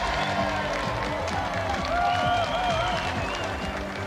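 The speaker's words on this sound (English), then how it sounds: "So let's have another round of applause for Ben McCluskey and our special guest, Ton" A television game-show studio audience applauds and cheers, a dense continuous wash of clapping for the full few seconds, with faint tonal music running underneath.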